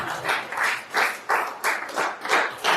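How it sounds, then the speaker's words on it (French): A church congregation claps together in a steady rhythmic beat, about three claps a second, the sound full and close with no talk over it. "On acclame très fort Jésus."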